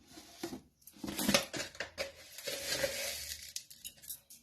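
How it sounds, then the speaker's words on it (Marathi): Small spoonfuls of sugar clink and scrape against a steel bowl of rice kheer mixture, several light metallic taps and rustles in quick succession, close and fairly quiet with no talking. "माझ्या या ठिकाणी छोटा चमचा असल्यामुळे मी 4-5 चमचे घातलेले आहे"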